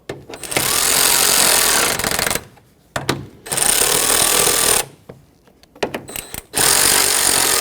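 Small radiator bracket bolts on a 2006-2010 Hyundai Sonata being snugged with a power tool, in two loud, sustained bursts with short pauses and brief stutters between them, close up and without talk.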